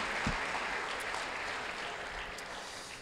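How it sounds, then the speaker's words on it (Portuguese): Dense applause from a church congregation during a sermon service, a full, steady wash of clapping that slowly fades over a few seconds, heard without speech. "Você pode aplaudir o Senhor Jesus aí?"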